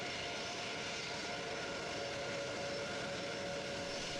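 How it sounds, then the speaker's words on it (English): A Boeing 747 freighter taxis toward the runway with its jet engines running, a loud continuous roar and whine that holds steady throughout, with no voices. "Slowly, the massive freighter rolls toward the runway"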